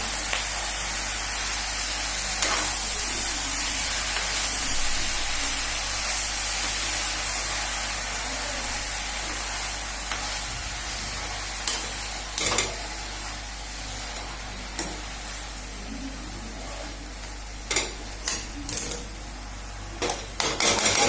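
Fenugreek leaves for methi bhaji sizzle and hiss steadily in a hot pan on a home stove for about twenty seconds, with sparse metallic scrapes and clinks of a spatula stirring, growing more frequent toward the end.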